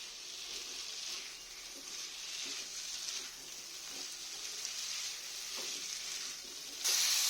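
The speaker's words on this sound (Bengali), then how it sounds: "দিয়ে এবার আমি ভালো করে কষে নেব।" Steady sizzle of spice masala being sautéed with papaya and potato in a hot pan, with faint stirring scrapes throughout and a brief louder burst of hiss near the end.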